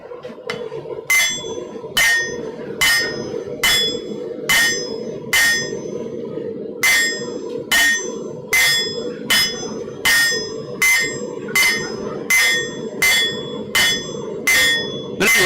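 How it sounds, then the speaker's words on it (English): A blacksmith's rounding hammer draws out hot steel on an anvil, giving a steady series of loud, ringing metallic strikes in an even rhythm, close up, over a low background hum of the forge. "Give me my rounding hammer for that. Drawing out."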